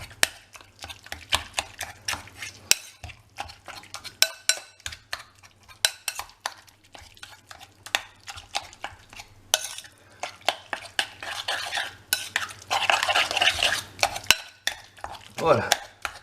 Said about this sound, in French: on écrase tout ça. Ça fait du bruit tout ça.